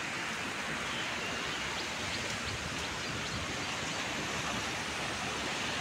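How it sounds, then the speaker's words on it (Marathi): A small waterfall pours beside a hot water spring pool at Dhamani, Sangameshwar, giving a steady, dense rush of splashing water that holds an even level throughout, with no voices. "आणि इकडे छोटासा वॉटरफॉल, धबधबा."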